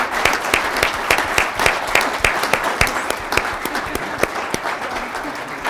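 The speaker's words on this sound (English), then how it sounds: "Can we give a big hand of applause to our panelists up here" An audience at a youth agriculture meeting applauds panelists, dense steady clapping from a moderately sized crowd, close and fairly loud, holding evenly for several seconds.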